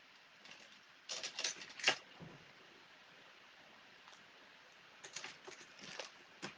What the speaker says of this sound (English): use a pair of scissors to just give that a nice little trim.